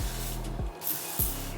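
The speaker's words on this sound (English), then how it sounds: "I like to spray my hair with water" Three quick spritzes from a handheld spray bottle misting water onto hair, evenly spaced about half a second apart, close and moderately loud.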